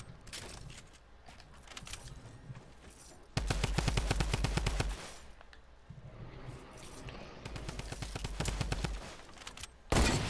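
Rapid bursts of submachine gun fire from a drum gun in the Fortnite video game, two long loud volleys with quieter gunfire and game noise in between, followed by a sharp final burst.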